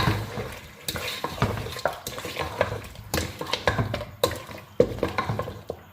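Masala fries with yogurt in a pot while being stirred, a broadband sizzle broken by frequent spoon scrapes and clinks against the metal, close and fairly busy throughout, with no talking.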